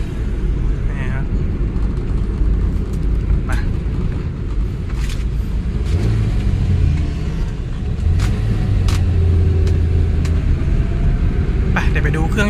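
A Nissan NV gasoline pickup truck drives along with a steady engine and road rumble inside the cab, while someone talks continuously over it.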